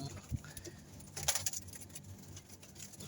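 Pigeons in a home pigeon loft give soft, low coos close by, mixed with light patter and fluttering rustles, and no one speaks.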